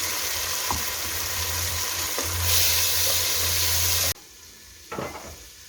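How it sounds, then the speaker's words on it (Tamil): Onion paste, ginger-garlic paste and green chilli hiss and fry in hot oil for Dindigul Thalapakatti chicken biryani, a loud steady sizzle with a few stirring knocks that drops away sharply near the end. "நம்ம ஃபைன் பேஸ்ட்டாக அரைச்ச ஆனியன், இஞ்சி பூண்டு விழுது, பச்சை மிளகாய் எல்லாம் சேர்த்து இதில் போட்டுடலாம்"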